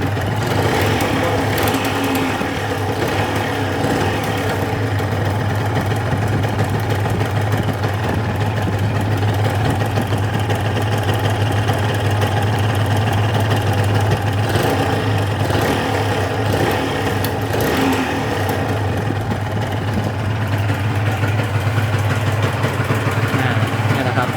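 A stock Honda NSR 150 RR two-stroke motorcycle, rarely ridden and smoky, idles with a steady, even engine drone at close range that holds at the same level for the whole stretch.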